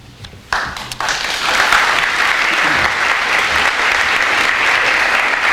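Banquet audience at a school hall of fame event breaks into loud, dense applause that starts abruptly and holds steady, a sustained roomful of clapping with no voices on top.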